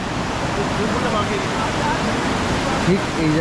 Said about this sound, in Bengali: ঠিক এই জায়গাটা ঝর্ণা